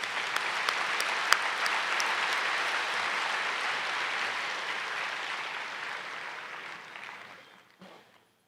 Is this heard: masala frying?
no